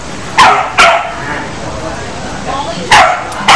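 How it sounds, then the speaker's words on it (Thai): A dog barks several times, loud and close, with sharp single woofs spaced unevenly across a few seconds, while people talk in the background. "เอาละครับเห่าจริงๆครับ"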